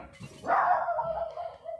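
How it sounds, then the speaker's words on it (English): A pet dog gives one short bark indoors at moderate distance, with a brief trailing yip after it and no talk. "Give me a minute, my dog's barking."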